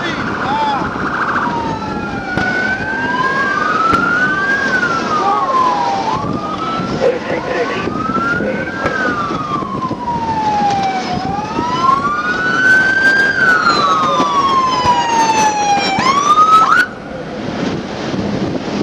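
A wailing ambulance siren sweeps up and down steadily, loud and close throughout, during a roadside trooper-involved shooting scene with wind noise underneath.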